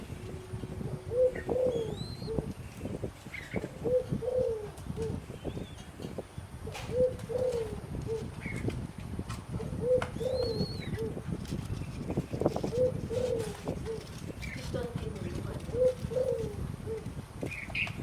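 Young doves learning to feed themselves, giving soft repeated low coos in a steady rhythm over a noisy background, with occasional higher chirps, moderately close and fairly faint.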